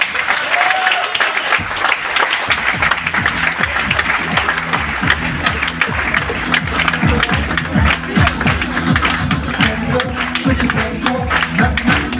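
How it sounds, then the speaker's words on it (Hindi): Loud, sustained applause from an audience at an event aboard a cruise ship, steady clapping throughout with music and voices mixed underneath. "आप लोगों की जोरदार तालियों के बीच"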